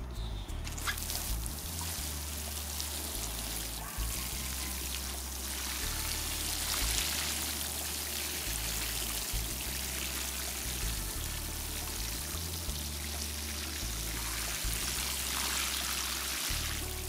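Water pours steadily onto garden soil over freshly planted fava bean seeds, a soft continuous trickle and splash close by, faint and even with no talking.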